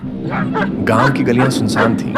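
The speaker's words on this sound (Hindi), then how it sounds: "दूर कहीं कुत्ते भौंक रहे थे" Dogs bark somewhere far off in a deserted village lane at night, faint yips sitting under a continuous narrating voice.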